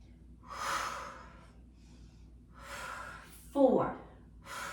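Heavy breathing during knee push-ups in a Pilates mat class, with several separate breathy exhales, one sharp louder gasp near the end, close and fairly quiet.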